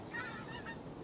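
Geese honk faintly in the distance near a Manchester Airport runway, their calls coming through as a soft, steady chorus over low background noise for about a second.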